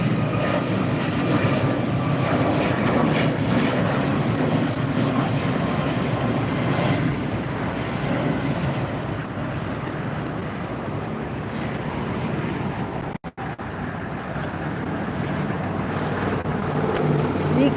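A Qantas jumbo jet at LAX airport roars steadily and loudly, its broad engine noise sustained throughout with a brief dip near the end.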